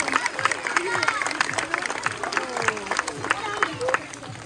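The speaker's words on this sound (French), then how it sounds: "on peut bien sûr les applaudir bien fort parce qu'ils le font très bien cet exercice" An audience at a zoo sea lion show applauds, bursts of clapping and crowd hubbub rising and falling under a presenter's voice talking over the loudspeaker.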